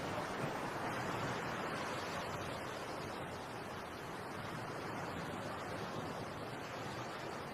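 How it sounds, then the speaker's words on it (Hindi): Sea waves washing onto the shore in an anime film, a steady broad wash of surf with no distinct breaks, even and moderately loud throughout with no voices. "अपनी आंखें बंद कर समुंदर की लहरों को सुनकर मुझे शांति मिलती है।"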